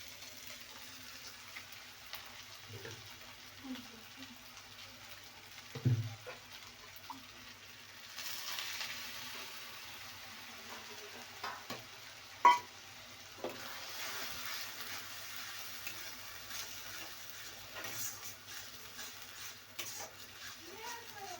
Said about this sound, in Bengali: এবার এই মশলা দিয়ে দেবো, এতে আদা রসুন আর জিরে বাটা আছে, পেস্টটা দিয়ে দিলাম